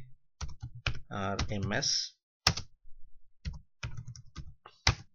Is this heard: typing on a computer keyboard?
yes